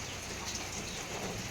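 Steady rain falling, the first rain of the season, a dense even hiss that continues without a break and with no voices.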